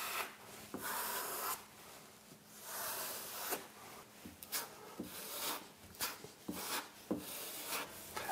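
A coat of pink colour-changing filler spread with a tool over flat electrical cable tape on a wall, repeated close scraping and rubbing strokes in uneven rhythm with short gaps between passes.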